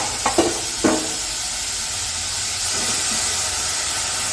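Chopped potato and brinjal drop into a hot pan with a few quick clatters, followed by a steady, close sizzle and hiss of frying.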